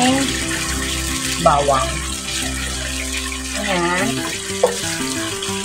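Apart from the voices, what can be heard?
water being poured into the pan with garlic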